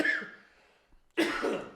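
Two coughs separated by a short pause, the first trailing off and the second sharper and louder, close to the microphone.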